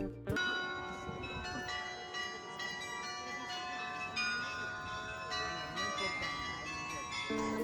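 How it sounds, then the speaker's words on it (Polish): Small bells chime continuously in a bright, layered ringing, steady and fairly distant, lasting the whole stretch. "Nie wiem co to za dzwoneczki, ale chciałam Wam pokazać."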